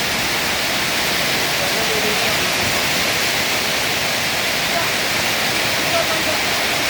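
Heavy rain pours steadily with rushing, flowing water, a dense continuous hiss that stays loud and even throughout, with no clear voices standing out.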